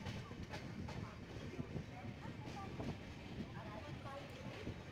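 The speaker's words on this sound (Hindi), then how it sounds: "हमारी ट्रेन धौलपुर पहुंच ही रही है।" A Shatabdi Express train pulls into Dholpur station with a faint, continuous rumble and soft rail clatter. Voices murmur quietly beneath the train noise.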